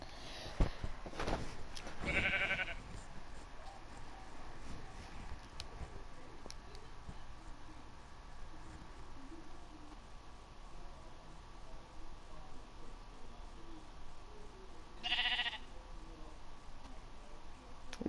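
Sheep in the Minecraft video game bleat twice, a short call near the start and another later on, faint over a steady background hiss.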